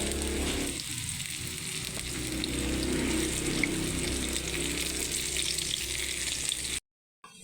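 Garlic fries in a pan after hotdogs were cooked, making a continuous, close, even sizzle that runs steadily, then cuts off abruptly into silence near the end, with no talk.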